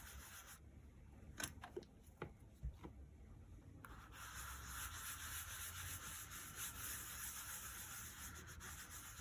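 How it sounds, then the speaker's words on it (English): A dishcloth rubs oil into a piece of leather, giving faint, close, continuous soft scrubbing and swishing strokes, a few brief scuffs early, then a steady rubbing hiss. "Put it on the cloth and just rub it in."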